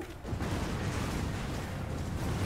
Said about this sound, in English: The explosion followed us all the way into here.